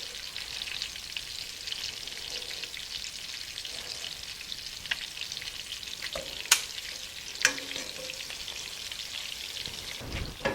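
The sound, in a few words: porcupine meatballs browning in a pan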